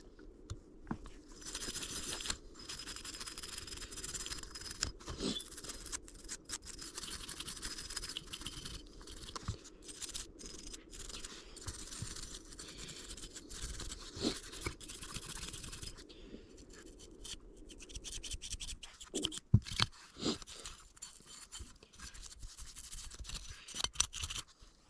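A toothbrush scrubs at a well-used, gummed-up Jimenez Arms .380 pistol during cleaning, giving a steady, close scratchy bristle rasp in repeated strokes with brief pauses and no talking.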